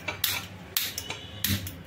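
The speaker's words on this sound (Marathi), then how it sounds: "तर इथे मी सर्वात पहिले गॅस ऑन करत आहे" A gas stove being switched on in a home kitchen: three sharp ignition clicks spaced apart, close by and fairly loud, with no one speaking.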